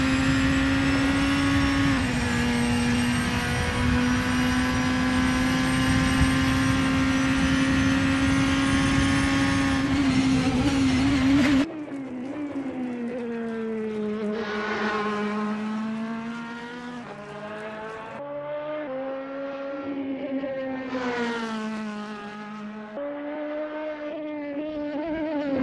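LMDh hybrid prototype race cars lapping Road America in Assetto Corsa: a loud sustained engine drone holds steady, then drops to a quieter stretch of engine notes rising and falling through shifts, with no voices.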